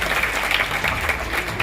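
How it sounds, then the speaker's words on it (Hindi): Audience applause for children at a talk, a short, fairly loud patter of many hands clapping together, steady with no break. "तालियां सबकी बच्चों के लिए।"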